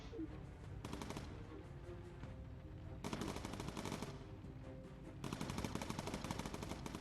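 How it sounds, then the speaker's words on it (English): Rapid machine gun fire from the Bomber Crew aircraft video game comes in three sustained bursts, loud and rattling, separated by short quieter gaps. "God, you got a great shooting, Hunter."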